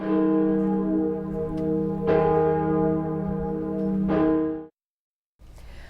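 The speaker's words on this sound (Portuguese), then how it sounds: "várias catedrais da França badalaram seus sinos" Large cathedral bells in France toll slowly and resonantly in tribute to Notre-Dame de Paris, three heavy strikes about two seconds apart, their long ringing hum filling the air before it cuts off.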